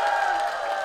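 Studio audience applauding at a televised Korean trot music show, steady dense clapping with some crowd noise filling the whole short stretch.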